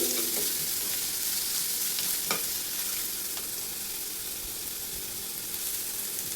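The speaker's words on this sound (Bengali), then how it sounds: "দেখো পেঁয়াজটা প্রায় ভাজা হয়ে গেছে, কালারটা দেখো একটু চেঞ্জও হয়ে গেছে।" Onions fry in a pan with a continuous soft sizzle, almost browned, with a few light scrapes and taps of stirring, and no talk over it.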